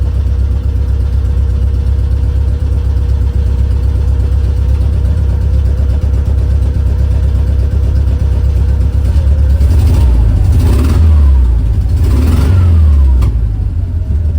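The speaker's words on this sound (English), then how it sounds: "So we're idling here in the driveway." The air-cooled engine of a 1972 VW Type 3 idles steadily and loudly in a driveway, cooling tins rattling, with a couple of brief revs and rattles toward the end.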